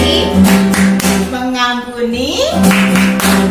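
Children clap along to a clapping song, with regular claps under loud sung and spoken voices of an adult leading them.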